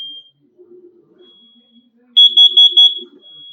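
A home smoke alarm under test sounds four loud, evenly spaced electronic beeps close by, preceded by a faint steady tone and brief quiet speech.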